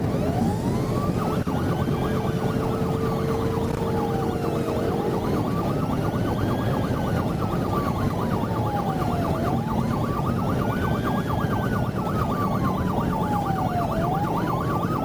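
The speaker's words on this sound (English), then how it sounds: "a fellow officer, Trooper Frank Flores, chasing a gray BMW sedan with lights and sirens flashing." A police car siren wails through a steady, repeating rising and falling cycle during a high-speed chase of a gray BMW sedan. It runs loud and continuous, alone and without talk.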